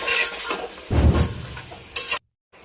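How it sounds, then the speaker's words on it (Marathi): Washed mutton dropped into hot oil with turmeric and stirred, giving a loud sizzle and scraping in a pan, a short burst of clatter, then silence. "आपण हे घे धुवून ठेवलेलं मटण तेलामध्ये टाकूया आणि मस्त असं परतून घेऊया"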